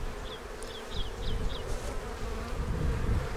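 Bees swarming thickly around an opened beehive full of queen cells, a dense, continuous buzz close to the microphone with a few sharper chirp-like calls near the start, and no talking.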